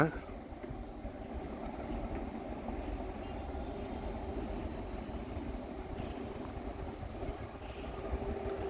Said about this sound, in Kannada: ಇವತ್ತು ಟ್ರೈನ್ ಬರ್ತಾ ಇದೆ ಇದು ಮೈಸೂರಿಂದ